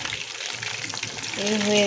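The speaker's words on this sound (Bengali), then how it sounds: "এখন ভাজা হচ্ছে পমফ্রেট ফ্রাই করছি, রূপচাঁদা মাছ ভাজতেছি" Pomfret (rupchanda fish) fries in a pan with a loud, dense, steady sizzle that swells slightly toward the end, where a brief tonal hum rises over the crackle.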